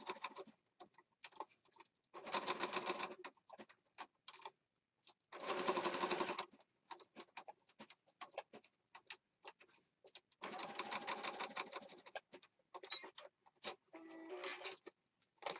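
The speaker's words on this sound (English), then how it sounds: "Just put a couple of zigzag stitches down" A sewing machine stitches zigzag stitches into a junk journal in several short bursts of rapid mechanical chatter, separated by clicks, taps and quiet pauses.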